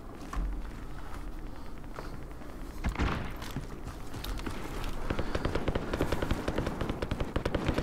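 A frag grenade blast in a multiplayer shooter game, a heavy low thump near the three-second mark, followed by rapid crackling gunfire that grows denser toward the end.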